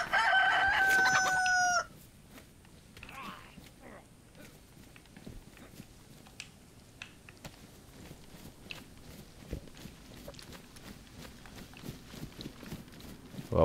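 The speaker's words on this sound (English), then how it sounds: "Oh, that's the rooster over there." A rooster in the video game DayZ crows loudly once at the start, a sharp rising and falling call, followed by quieter outdoor ambience with footsteps and small rustling noises.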